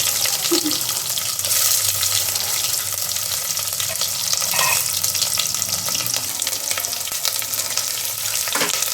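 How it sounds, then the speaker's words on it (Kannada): Onions fry in a pan with mustard seeds and greens for a spicy sambar, a continuous close sizzle with occasional stirring scrapes and light clinks. "ಈರುಳ್ಳಿ ಫ್ರೈ ಆಯಿತು"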